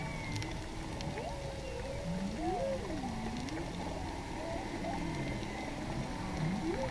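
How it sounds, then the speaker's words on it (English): Whale calls picked up underwater by a camera resting near the seabed off Hawaii, rising and falling moans and whoops repeating over a steady watery rumble, with no talking. "I want you guys to note the whale noises."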